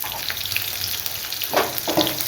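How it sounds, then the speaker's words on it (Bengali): Potatoes sprinkled with turmeric frying in a pan, a loud, close hiss and crackle of hot oil with a couple of brief stirring scrapes near the end. "একটু লাল লাল করে আলুগুলো ভেজে নিতে হবে"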